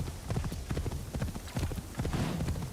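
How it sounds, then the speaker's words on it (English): Horse hooves clip-clop at a rhythmic gallop in the Assassin's Creed Shadows video game, moderately loud and steady, with no whinny clearly standing out. "the horse sounds, of course, are basically the same as Valhalla"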